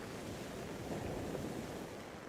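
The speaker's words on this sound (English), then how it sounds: "the sound of the waves mingles with the rain" Steady ocean waves wash in with rain, a dense broadband hiss of surf and falling water that stays even and continuous, moderately loud, with no voices.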